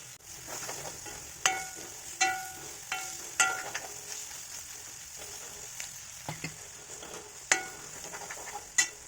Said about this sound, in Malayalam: തക്കാളിയും ഒരു 2 മിനിറ്റ് നന്നായിട്ട് വഴറ്റണം